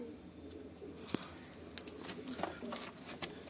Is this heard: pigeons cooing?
yes